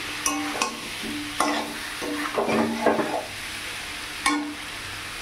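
Yam, potato and prawns being sautéed in a pan, with a few distinct spatula stirs and clinks against the pan over a light sizzle, close and moderately quiet.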